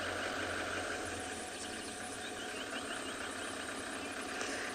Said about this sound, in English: You probably can hear their vehicles in the background.